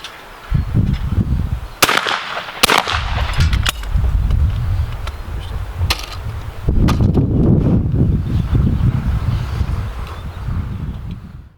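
Shotgun blasts at clay targets from an ATA SP or Beretta 686, sharp loud reports near the start and again around the middle, with wind buffeting the microphone between shots.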